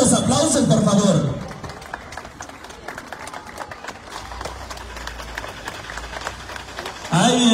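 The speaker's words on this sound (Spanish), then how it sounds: "fuerte los aplausos, por favor." Audience clapping at an outdoor hobby-horse presentation by two children in Jamiltepec, a dense sustained applause of moderate loudness between bursts of an announcer's loud voice at the start and end.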